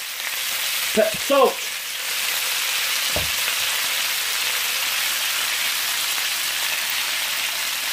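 Pork sizzles steadily in a hot pan, a dense crackling hiss throughout; a voice says a word briefly near the start.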